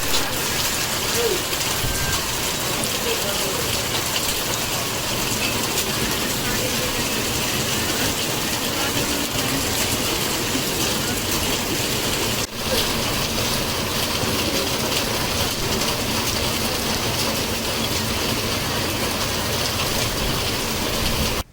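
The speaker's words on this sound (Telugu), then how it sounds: "తుఫాన్ ప్రభావంతో సచ్చివేడు నియోజకవర్గంలో భారీ వర్షాలు కురుస్తున్న పరిస్థితి" Heavy rain from Cyclone Ditwah falls over the Satyavedu constituency, a dense, steady roar of downpour that runs unbroken and fairly loud throughout, with no voices over it.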